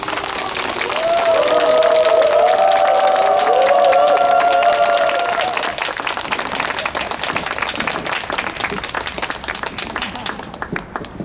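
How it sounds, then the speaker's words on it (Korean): Church audience claps to welcome a visiting pastor to the front, applause swelling over a sung or spoken voice early on, then continuing as sustained dense clapping with some cheering before thinning out at the end. "우리 나오실 때 박수로 환영하도록 하겠습니다"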